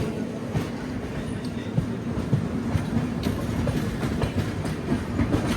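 The 58501 Kirandul Passenger train between Visakhapatnam and Araku rolls along with a continuous rumble and steady clickety-clack of wheels, heard from aboard, without speech.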